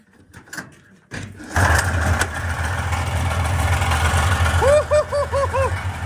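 A vintage snowmobile's Cyclone 440 two-stroke engine catches after a few attempts and settles into a steady, buzzing idle, loud and close, with people talking and cheering over it near the end.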